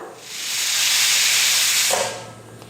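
A pressure cooker on a stove lets out one long, loud, hissing steam release lasting about two seconds before it cuts off abruptly.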